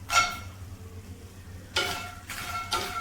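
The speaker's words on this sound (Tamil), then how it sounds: "ஒரு பேன்ல 1 டீஸ்பூன் நெய் சேர்த்து மக்கானாவை அதில் போட்டு நல்லா ஃப்ரை பண்ணிக்கலாம்" Makhana, cashews and almonds fry in ghee in a pan, giving a soft sizzle broken by three louder bursts of stirring and clattering, close and without any talk.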